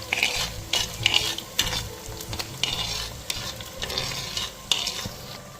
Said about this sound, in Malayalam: ഒരു സവാള ചെറുതായി അരിഞ്ഞത് കൂടിയിട്ട് നന്നായിട്ട് വഴറ്റിയെടുക്കാം